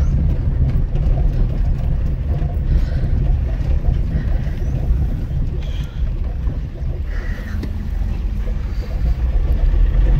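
Engine of a falling-apart old moped, a rough, loud, steady drone with wind buffeting the microphone and people talking faintly over it.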